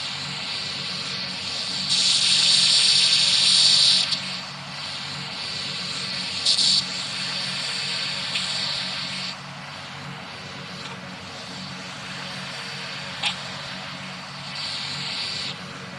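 ATR 72 turboprop airliner landing in the PTFS flight game, a steady engine drone with louder swells of propeller roar at intervals and short bursts, continuous throughout with no talking.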